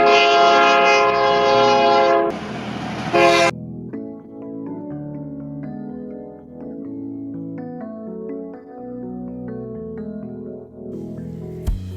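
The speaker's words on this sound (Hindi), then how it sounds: "दार्जिलिंग में सीटी बजाती रेल।" A loud, sustained whistle from a Darjeeling train blares near, then a brief burst of steam noise, followed by a softer rhythmic musical melody of bells or notes.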